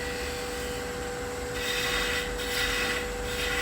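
Steady rasping and scraping as a gouge cuts down wood on a lathe while turning a finial, continuous and close, growing a little louder partway through, with no talk.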